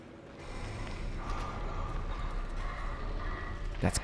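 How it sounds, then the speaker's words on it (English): Labored, raspy breathing from a creature in the video game SOMA, a steady rough rasp with a sharp cough-like burst near the end, alone without talk. "That's breathing. That's labored breathing. That's coughing."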